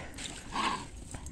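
A dog whimpers and whines beside a fence, a single drawn-out nasal cry rising in the middle of a short span over steady outdoor background noise.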